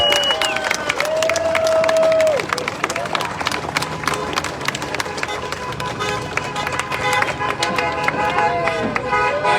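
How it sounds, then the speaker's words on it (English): A large crowd at a labor rally at a state house claps and cheers in a dense, continuous wash of applause, with musical tones running underneath. "give yourselves all a big round of applause"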